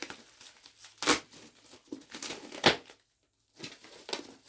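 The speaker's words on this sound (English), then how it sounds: "I'll unwrap it." A GE Home Sentry 8203-001 smoke detector is pulled out of bubble wrap. Several sharp crinkling and crackling bursts come close to the microphone, separated by short pauses, with no talking.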